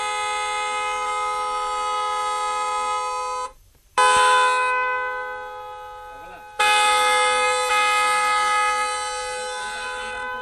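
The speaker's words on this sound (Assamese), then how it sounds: "বাইকৰ সন্মুখত কাণ পাতিবলৈ দি যান বাহন আৰক্ষীয়ে বজালে বিকট শব্দৰ হৰ্ণ" A traffic policeman sounds a loud motorbike horn in long, blaring tonal blasts: one sustained blast, a brief cut-off, then more blaring that fades slightly before surging again.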